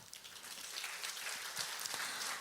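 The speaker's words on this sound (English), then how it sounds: "Please give them a loud applause." A symposium audience at an ecology institute's tenth anniversary event applauds the speakers, a steady, fairly faint patter of many hands clapping throughout.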